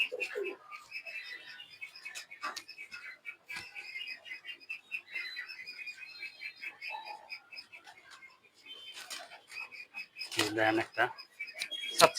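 Pigeons cooing softly alongside scattered chirps and rustling nearby, with a louder burst of fluttering or calls near the end.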